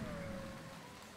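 Steady rain in the Motorsport Manager racing game, a faint, even hiss of falling drops with a low tonal hum beneath, heard alone for about a second.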